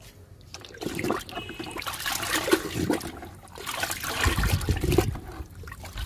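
Liquid fertilizer pours onto plants in uneven gushes and trickles, close by and moderately loud, swelling twice over a few seconds.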